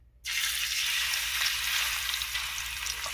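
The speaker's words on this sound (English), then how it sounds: "let's go ahead and start searing our fish" A skin-on salmon fillet, seasoned on both sides, hits a hot skillet with a sudden loud sizzle that settles into steady crackling frying.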